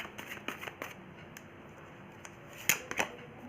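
Tarot cards are shuffled and drawn by hand, quiet crisp riffles and slaps in short bursts with a sharper flurry near the end, no voices.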